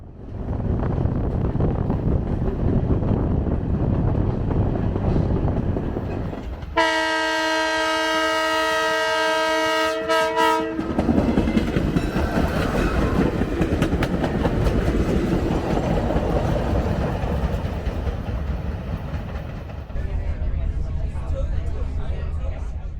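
A Reading & Northern passenger train rumbles along the rails near Jim Thorpe Junction with a low steady roar, interrupted midway by a long, loud horn blast before the rolling noise continues.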